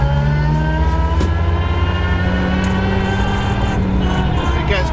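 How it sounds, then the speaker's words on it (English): Interior drone of a road-legal rally car with a sequential gearbox and three plated diffs, loud and constant with steady engine harmonics and gear whine, plus a few sharp clicks and knocks. "This has got three plated diffs in it, so it's super noisy as well."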